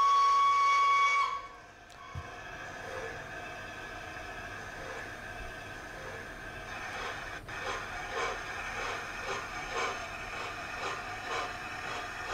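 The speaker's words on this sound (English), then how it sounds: "So we'll try a function 2 whistle first." A model train's steam whistle sounds a steady high tone for just over a second, then cuts off into a quiet mechanical chuffing rhythm that continues steadily.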